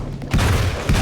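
Gunfire from a new gun in the video game Alan Wake's American Nightmare: two loud, close booming shots about half a second apart, each a heavy thud with a rumbling tail, no voices.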